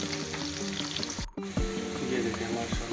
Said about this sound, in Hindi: तड़का प्याज करेंगे, प्याज को ब्राउन करेंगे